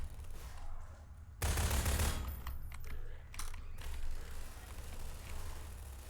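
Rapid turret gunfire in a real-time strategy video game, a dense burst of automatic shots with sharp clicky attacks, loudest early then continuing in shorter volleys over a steady game backdrop.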